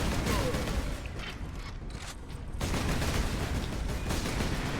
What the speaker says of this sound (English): we're being shot at by guys that we can't really get to